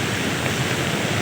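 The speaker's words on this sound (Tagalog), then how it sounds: "Ulan, malakas." A steady, dense roar of heavy rain pouring down, constant and loud with no breaks.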